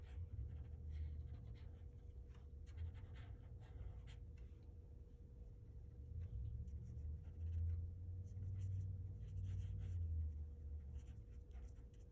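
Pencil sketching quick texture strokes on paper for a car drawing, a faint scratchy scribbling that runs continuously under a low background hum.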